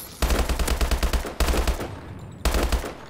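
An automatic gun firing in a video game shooter, three loud, dense bursts of rapid shots, each lasting about a second and separated by brief gaps, close and booming.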